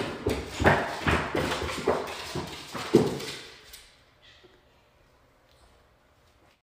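Quick, uneven hoof taps clop on a hard surface for about three seconds, then fade into near silence.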